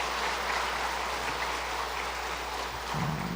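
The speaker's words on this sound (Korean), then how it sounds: "우리 환영의 박수 드리도록 하겠습니다" Steady welcoming applause from a large church congregation during a Sunday worship service, a dense wash of clapping that holds evenly throughout.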